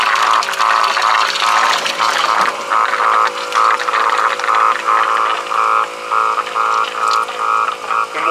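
Water draining and splashing from an FW-120 water filtration unit, tilted up to empty its UV lamp chamber, with a steady rushing flow broken by a rhythmic pulsing sputter, close and fairly loud.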